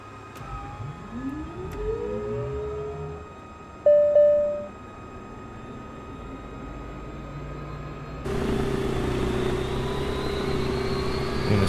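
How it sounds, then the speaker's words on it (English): Aircraft engines start up in Microsoft Flight Simulator 2024: a rising whine climbs over a steady hum, a short tone sounds, and then a louder, broad engine roar kicks in and holds steady. "let's go ahead and get the plane started up"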